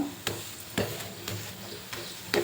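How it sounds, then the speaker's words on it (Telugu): A chapati roasting on a hot pan, a soft steady sizzle broken by several sharp scraping taps at irregular intervals as it is pressed and turned, close and fairly quiet, with no talking. "చూసారు కదండి చపాతి ఎంత బాగా వేగుతుంది"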